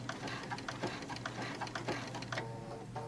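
Longarm quilting machine stitching fabric in place to knot off a quilted bag, a steady mechanical whir with rapid ticking needle strokes, close and continuous with no talk.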